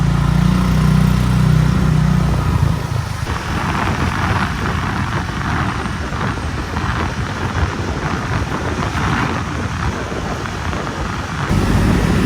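A motorbike rides through Bangkok traffic toward the Ploenchit district, its engine droning steadily and loudly up close, with broadband road and wind rumble throughout and a lower idle at the start.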